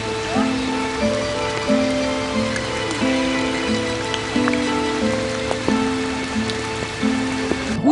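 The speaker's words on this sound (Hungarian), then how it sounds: "hiszen szakad az eső." Heavy rain pours steadily in a continuous dense hiss throughout, with a voice speaking and tonal sounds running over it in the foreground.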